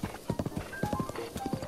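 Hooves of a horse in The Legend of Zelda: Breath of the Wild clop in a steady rhythm across the whole stretch, close and fairly loud, with no talk over them.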